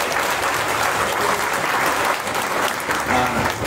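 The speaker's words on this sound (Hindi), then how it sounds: "आप लोगों के लिए जोरदार ताली हो जाओ," Loud, sustained applause from an audience at a Srimad Bhagavatam katha gathering in Noida, dense clapping filling the whole stretch without pause, with some crowd voices mixed in.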